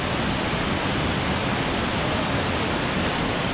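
A waterfall in Caribou-Targhee National Forest roars as a loud, steady broadband rush of falling water, constant and close with no breaks.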